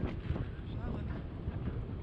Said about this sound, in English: A little noisier video today with this wind